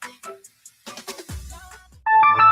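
A business phone ringing in a radio advertisement, a loud electronic ringtone that cuts in sharply after a short stretch of faint clicks and sounds.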